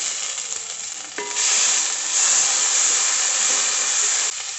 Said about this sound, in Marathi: तेल टाकून घेऊयात. थोडीशी मोहरी टाकून घेऊ, कांदा आणि हिरवी मिरची, थोडासा कढीपत्ता, उभा चिरलेला टोमॅटो.